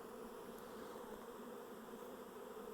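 A honey bee swarm being caught and dropped on a farm gives off a steady, dense buzzing drone from many bees. It holds even and continuous throughout, close and moderately loud.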